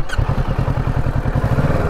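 A motorbike engine thrums in a steady, close pulsing rhythm while riding along winding roads in Nepal, with a short higher whine at the very start.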